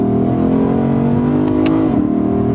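A 2022 Lexus IS500 Launch Edition sedan pulls hard with traction control switched off, its engine a steady loud droning roar that dips briefly near the end, with a couple of short high squeaks from tire spin.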